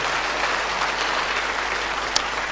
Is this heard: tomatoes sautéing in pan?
no